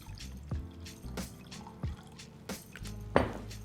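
Vermouth glugs and drips into a measuring jug in short uneven bursts, close and clear, with faint handling sounds between pours.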